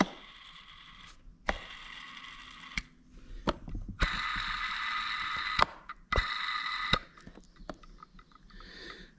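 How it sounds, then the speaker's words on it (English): Worn timing belt idler roller bearings from a VW ALH TDI engine spin up close, making rough, gritty whirring bursts of a few seconds each, broken by clicks and short mechanical rattles. "I'm replacing both of these bearings because I don't like the way they sound"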